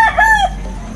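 A rooster lets out a short, loud, close crow lasting about half a second, followed by quieter background noise.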